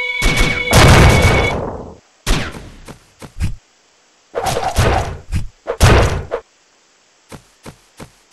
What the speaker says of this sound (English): And now a special attack.